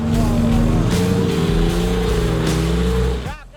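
A car's engine drones loud and close as it accelerates on wet pavement, a sustained throaty tone with a slight rise in pitch, holding steady before cutting off sharply near the end.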